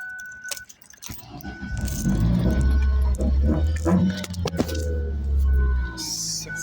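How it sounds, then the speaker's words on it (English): A Ford car engine revs hard and holds a loud, rough low growl while reversing, with jangling keys and clattering near the start and a sudden drop-off near the end. "I can rev it up and get it in reverse"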